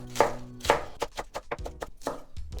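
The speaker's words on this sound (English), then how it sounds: "the leafy part of the cabbage I'm going to cut into also slices" Knife chopping through the leafy part of a cabbage on a board while making stir-fried udon: a run of crisp, close blade strikes in an uneven rhythm, with no talk.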